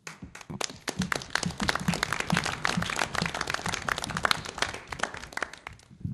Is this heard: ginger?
no